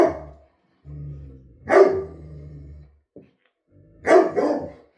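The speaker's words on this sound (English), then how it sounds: "Let me just calm down my dog real quick." A pet dog barks indoors in a few loud, sharp bursts separated by quieter whining and low growly vocalizing, close to the microphone with no talk.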